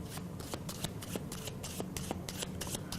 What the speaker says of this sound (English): And I begin shuffling, and as I shuffle, I am counting to 13.